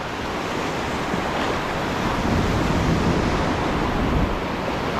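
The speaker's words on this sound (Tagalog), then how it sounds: "Oh, laki ng alon na yun, oh." Big ocean waves break and surge steadily on a Philippine shore at a shore-casting fishing spot, a loud continuous wash of surf with wind buffeting the microphone.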